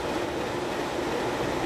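A train in a railroad video game rolls along with a steady rumble and faint rhythmic clatter of wheels, constant and fairly loud.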